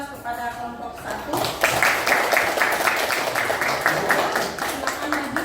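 Applause for group 1 in a classroom: a teacher speaks briefly, then a room of students claps steadily and briskly for several seconds, close and fairly loud.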